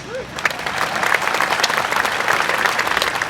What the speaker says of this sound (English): I'd like to take now one more round of applause for our speakers.